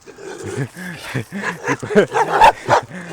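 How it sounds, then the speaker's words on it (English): A dog barks and yips repeatedly to guard its territory, with close, excited calls in quick succession and a person's voice mixed in. "You see that? Look at the dog."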